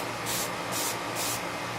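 Spray paint hisses from an aerosol can in three short, even bursts, dusting a very light coat onto a model; close and steady, with no talking.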